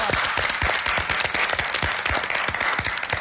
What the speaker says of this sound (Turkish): hepimiz alkışlıyoruz